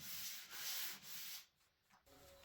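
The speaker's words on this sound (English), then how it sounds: "de-nibbing, or basically sanding very lightly in between" Light sanding of primed cabinets between coats, done by hand as de-nibbing. Soft, close rubbing strokes come in a few bursts with short pauses between them.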